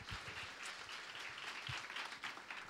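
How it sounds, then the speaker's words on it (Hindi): A church congregation at a Sunday service claps to welcome Reverend John Toppo, steady applause filling the room with a few louder individual claps, no talk over it. "ताली बजा करके हम स्वागत करें"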